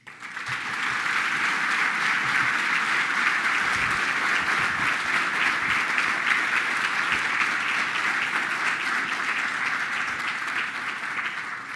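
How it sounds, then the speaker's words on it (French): Conference audience at the AQT Grande Conférence applauds after a presentation, a dense, even wash of many hands clapping that holds steady for the full stretch without voices over it. "vous venez d'applaudir Yoshua pour sa présentation"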